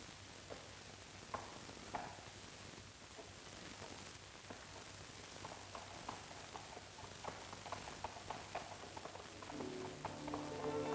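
Horse hooves clip-clop steadily at a walking pace in a 1950 crime drama, quiet and somewhat distant against a hissy background, with a brief voice near the end.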